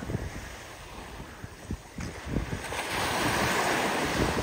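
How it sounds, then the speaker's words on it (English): Waves break on a beach on a warm day, a steady roar of surf with rhythmic washes swelling louder toward the end, mixed with wind buffeting the microphone. "And here we are at the beach."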